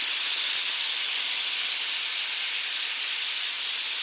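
A pressure cooker whistle lets off a steady, loud hiss of steam that holds unbroken for the whole stretch while an Onam sadya curry is cooked, with no voices over it.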